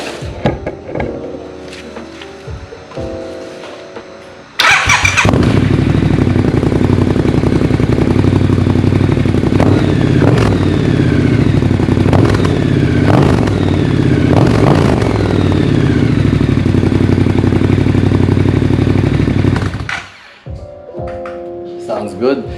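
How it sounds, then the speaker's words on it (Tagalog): A Triumph Scrambler 1200 fitted with a Zard exhaust, silencers still installed, fires up after a few quiet seconds and runs loud and close with a deep throbbing idle and sharp revs before cutting off abruptly. "Now that we've installed the pipe, we have to have a sound check of that. So of course we're going to turn it on."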